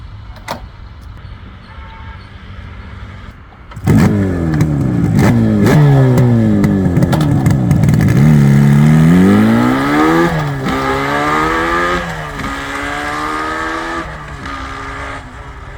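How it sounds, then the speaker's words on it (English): A Yamaha RD 350 two-stroke motorcycle kicks into life from cold after a quiet lead-in, then revs loudly and repeatedly close by, its rising and falling engine note blipping up and settling back to a rough idle. "if I'm doing a cold start, I have to use a choke, and then I have to turn on the fuel, then I have to kick start"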